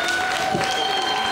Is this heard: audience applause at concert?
yes